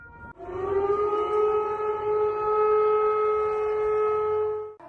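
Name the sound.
air raid siren in Moscow during alert system test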